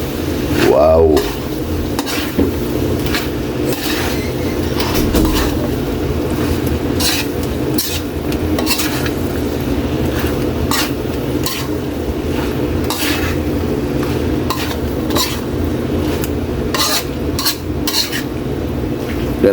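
Bopis, a Filipino dish, being stirred in a pan, with steady scraping and clinking of a utensil against metal over a continuous sizzle, close and fairly loud throughout.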